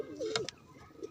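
A giribaz pigeon sitting on its eggs gives a soft, rolling coo at close range, followed by a few short, faint calls.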